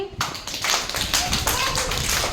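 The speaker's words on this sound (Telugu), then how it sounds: "అందరు గట్టి చప్పట్లు కొట్టండి" A group of people claps loudly and steadily together, a dense wash of hand claps that fills the short moment with a voice faintly underneath.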